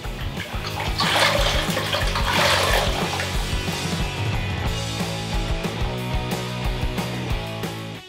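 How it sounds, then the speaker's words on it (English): Water sprays steadily onto shower walls to rinse off dust before laying thinset during a tile membrane install, a continuous close hiss and splatter that carries on without pause and without talk. "Now I'm gonna lightly wet the walls with water just to get any dust off,"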